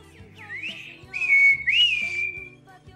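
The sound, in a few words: whistled imitation of a calandria's song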